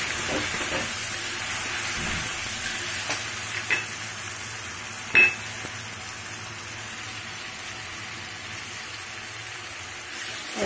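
Red chilli, bay leaf and ground masala frying in oil in a kadhai, giving a steady close sizzle and hiss with occasional stirring clinks.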